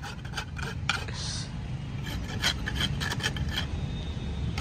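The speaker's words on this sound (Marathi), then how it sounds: "आता हे फाईल मारायचं काम चाललेलं आहे बघा" Farrier working a rasp across a horse's hoof being shod, steady close scraping strokes in an uneven rhythm over outdoor background noise.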